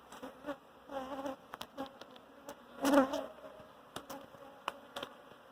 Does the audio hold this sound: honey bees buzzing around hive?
yes